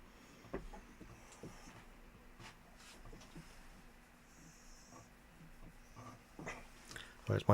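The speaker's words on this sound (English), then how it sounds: "Where's my dog demanding attention?" A dog demanding attention nearby, with soft snorts, breathy huffs and faint whimpers scattered through quiet room tone, growing a little louder toward the end.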